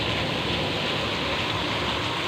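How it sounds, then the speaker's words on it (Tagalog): Heavy rain pours down without wind in a steady, dense roar that never lets up for the whole stretch. "Malakas lang po yung buhos ng ulan"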